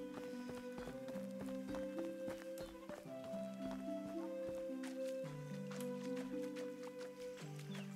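Horse hooves clop in a steady rhythm in the video game Medieval Dynasty, faint beneath a sustained melodic music track.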